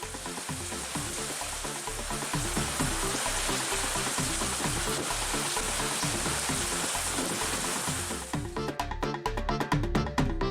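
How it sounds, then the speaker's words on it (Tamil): Heavy evening rain falls steadily and loudly outdoors, a dense continuous hiss and patter of drops on the road and surfaces that runs without pause. "மாலை அரை மணி நேரத்திற்கு மேலாக பெய்த மழை காரணமாக சாலையில் தண்ணீர் பெருக்கெடுத்தது"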